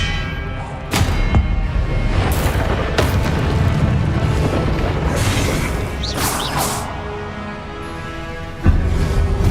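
Confringo blasting curse exploding in a Hogwarts wizarding video game: a sharp crash opens a dense, rumbling roar of blasts and debris, with more bangs along the way and a fresh loud hit near the end.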